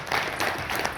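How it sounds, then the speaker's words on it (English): An audience applauds to welcome speakers onto a stage at a talk on asset tokenization, steady moderate clapping filling the whole second without a break. "Give them a round of applause."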